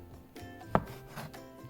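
Knife chopping through rolled, folded noodle dough for Lao Khao Piak Sen, a single sharp close cut standing out over a quiet kitchen background.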